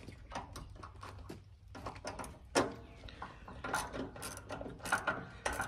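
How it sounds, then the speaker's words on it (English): A socket wrench ratchets in quick bursts of sharp clicks, with brief pauses, while a bolt on the blade engagement cable of a Craftsman T110 riding lawnmower is tightened up close. "what we're gonna do is use our socket"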